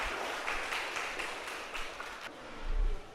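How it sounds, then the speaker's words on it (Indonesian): Students in a classroom at SMK Negeri 1 Burjo, a vocational school, clap their hands together in a steady, fairly quiet patter of overlapping claps lasting a few seconds. "Tepuk tangan untuk kalian semuanya."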